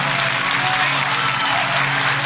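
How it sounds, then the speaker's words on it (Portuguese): Church congregation applauding during a Portuguese-language worship service, loud sustained clapping from many hands with a low held musical tone underneath. "Aplauda ao Senhor."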